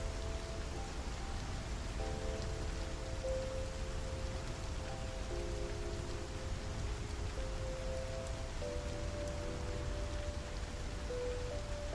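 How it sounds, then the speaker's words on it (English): Steady, even rain hisses throughout in the game Star Citizen, with soft, sustained tones drifting underneath. No one speaks. "Raining. I'm sure this is acid rain."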